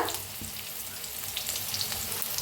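Chopped onion frying with asafoetida in a pan, a brief steady sizzle heard close and alone.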